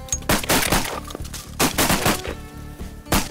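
Shotgun blasts fired at ducks landing during a waterfowl hunt: several sharp, loud reports in quick irregular succession, outdoors with little talk.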